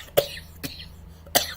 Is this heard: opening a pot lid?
no